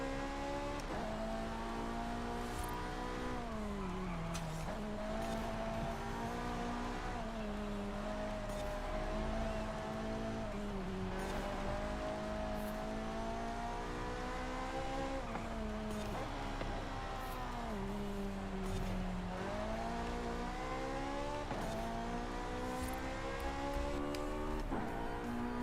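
A Ferrari races in Forza Horizon 5, its engine holding a steady high whine. Pitch rises and falls as it shifts gears and accelerates, and tire noise stays underneath throughout.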